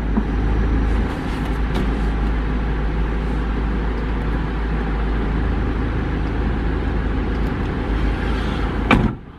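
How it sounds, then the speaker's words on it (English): A car reverses into a parking space at a multi-storey car park, its engine running as a steady, fairly loud drone throughout before easing off at the end. "reversing up again"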